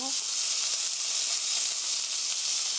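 Sliced beef fries in hot oil in a pan with a loud, continuous sizzle that holds steady from start to finish.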